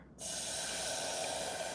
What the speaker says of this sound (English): you hear how it's already bubbling?